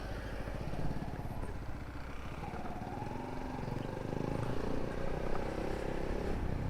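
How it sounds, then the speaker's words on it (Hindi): A heavy tow lifter truck rushes past at high speed through a busy market road, a loud broad engine roar building and swelling over the seconds with steady rumbling noise throughout. "बड़ी भारी गाड़ी और बड़ी स्पीड से आ रहा है"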